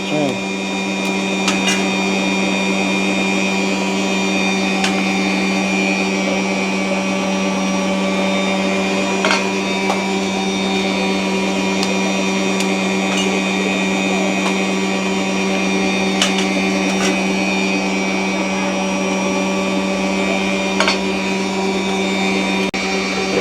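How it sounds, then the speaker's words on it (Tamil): Six eggs are beaten for a cake batter in a village kitchen, giving a continuous mechanical whir with steady rhythmic noise throughout and faint intermittent clicks. "ஆறு முட்டையும் நாங்கள் சேர்த்துட்டு நல்லா அடிபட்டு கொண்டிருக்குது"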